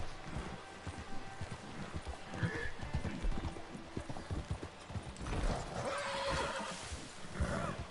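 Hooves clip-clop steadily while a horse neighs and whinnies a few times, all from a PS4 video game, with the galloping carrying through the whole stretch over a busy game soundscape.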